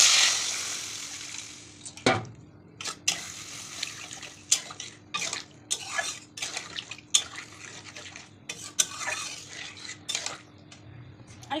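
Water poured into a simmering pabda fish curry in a pan, with splashing and a hiss at first, then scattered clinks of a metal utensil against the pot, close up and without speech.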